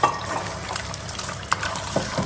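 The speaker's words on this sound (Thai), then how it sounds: "ผัดไข่ใส่น้ำมันก่อนจ้ะ" Egg frying in sizzling, crackling oil in a pan, with intermittent scraping and clinks of a utensil stirring, fairly close and moderately loud.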